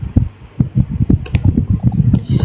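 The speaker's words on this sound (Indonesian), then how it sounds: "itu suara kipasku" An electric fan runs close to the microphone with a throbbing, pulsing hum that repeats in quick regular beats, with no talk over it.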